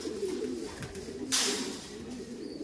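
Soft, low cooing from pigeons or doves continues throughout, with a brief burst of fluttering or rustling in the middle.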